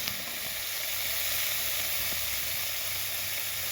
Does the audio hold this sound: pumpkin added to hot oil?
yes